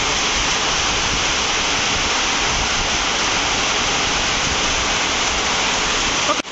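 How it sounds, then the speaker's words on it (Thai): Heavy rain pouring down steadily around a newly built house in a rural village in Chiang Kham, Phayao, Thailand, a dense continuous roar close by with no other sounds standing out. "นี่พี่น้องฝนตกเบิ่ยตกแห้งคัก"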